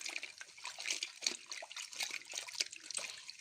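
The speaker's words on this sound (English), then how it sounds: "So then you rinse it in some clear water" Dyed silk rinsed by hand in clear water, giving soft, irregular splashing and trickling close by over a few seconds, with no talking.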